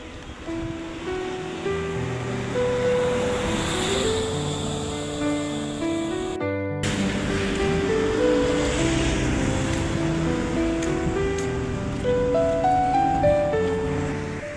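Ocean waves wash steadily onto a Seychelles beach at sunset, a continuous broad surf roar with gentle swells in loudness and a brief dropout partway through; no voices.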